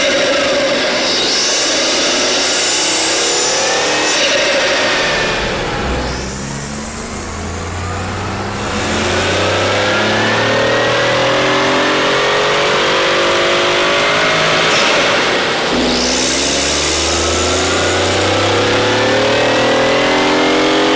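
A Mini Cooper F-Series turbocharged engine fitted with a cold air intake revs hard on a dyno, loud and continuous, rising in pitch through two long pulls with a brief dip between them.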